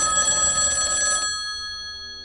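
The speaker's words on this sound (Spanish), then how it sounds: "El teléfono sonó." A telephone bell rings loudly in one sustained metallic trill, then cuts off and leaves a fading ringing tail over a quiet background.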